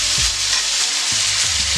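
Pork chops sear in a hot pan with a loud, steady sizzle throughout, with a few soft scraping stirs, and no voices.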